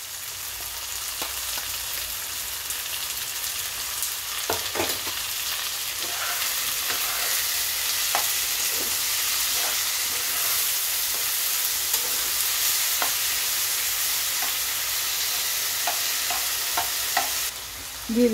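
Onion, garlic and ginger paste fries in a pan for a green jackfruit and prawn curry, giving a steady, close sizzle throughout with scattered small clicks and scrapes from stirring.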